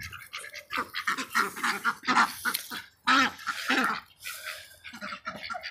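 Several ducks eat mealworms up close, giving off quick wet dabbling and snapping sounds with soft quacks in irregular bursts, and no one talks.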